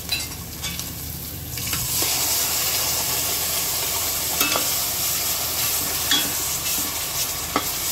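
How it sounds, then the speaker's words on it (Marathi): Ground spice paste sizzles and hisses in hot oil tempering with occasional scraping stirs of a spoon, steady and close, no talking. "हे जरा 1-2 मिनिटं व्यवस्थित आपण फोडणीबरोबर भाजून घेऊया"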